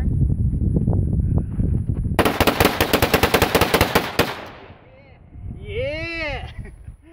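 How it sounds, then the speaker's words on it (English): A Vepr rifle fires a rapid string of about fifteen loud, evenly spaced gunshots in a quick burst, then stops, followed by a whoop and a voice. "the only thing I can think of that's left to try is some rapid fire."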